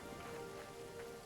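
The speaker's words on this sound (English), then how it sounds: "Because is it because it's raining?" Steady rain falls in the video game Hytale, a soft continuous hiss of drops across a short stretch with no talking.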